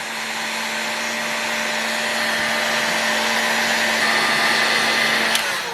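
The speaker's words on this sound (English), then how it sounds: "So let me heat this crankcase up really hot again." A heat source warms the hot crankcase of an OS model engine during a bearing replacement, giving a steady, loud blowing roar with a faint hum that holds evenly throughout.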